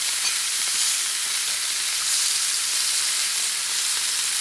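Top sirloin steak with butter sizzling on a stovetop griddle, a steady, dense hiss and crackle that holds even and loud from start to finish, with no voices over it.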